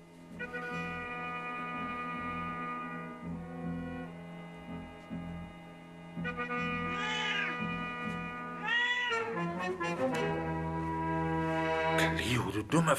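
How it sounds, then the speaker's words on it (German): A fat old tomcat lets out several drawn-out, wavering meows, rising to louder yowls near the end, over a continuous musical and voiced background. "du dummer, fetter alter Kater"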